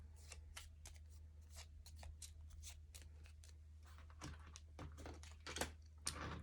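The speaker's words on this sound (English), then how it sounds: "now we're down to the last card, so then we shuffle them up again." Repeated crisp riffling bursts of a deck of Honey Buzz board game cards being shuffled, several quick rounds close by, over a steady low hum.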